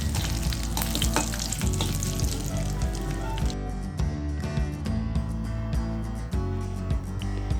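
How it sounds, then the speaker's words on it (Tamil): Spices, curry leaves and a pinch of asafoetida frying in oil as a tempering for rasam, a loud, dense sizzle and crackle with constant popping that settles into a steadier hiss partway through. "இதெல்லாம் நல்லா வறுத்துக்கோங்க."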